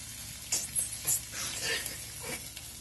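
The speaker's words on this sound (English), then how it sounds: "Come watch me flip the tofu." Tofu dry frying in a pan, a steady sizzle broken by a few scraping stirs and flips, close and moderately loud with no talking.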